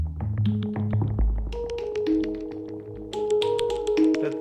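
Plucky synth notes from a Mayer Vibes VA/wavetable synthesizer at Superbooth 2023, short percussive plucked tones played in a quick melodic pattern, clear and moderately loud.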